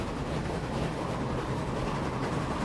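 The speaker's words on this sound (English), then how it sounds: "I have no idea where these trains are going to end up as well." Trains rolling on rails in the Transport Fever 2 video game with a UK mod set, a continuous rumble with a faint clickety-clack and no talk.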